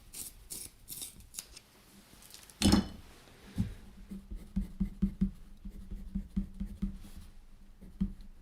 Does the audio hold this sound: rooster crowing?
no